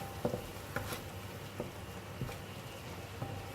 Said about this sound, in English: Just need to fry about 5 to 7 minutes until the fragrance of all the ingredients is out